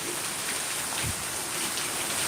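Steady rain pours onto a roof in front of a house, a dense continuous hiss close by with no pauses and no voices.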